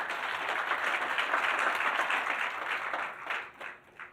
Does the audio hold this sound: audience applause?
yes